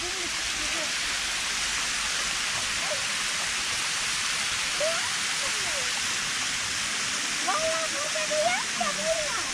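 Natural waterfall at Pamukkale giving off a loud, steady rush of falling water that fills the scene. People talk over it, and their voices sit on top of the constant roar.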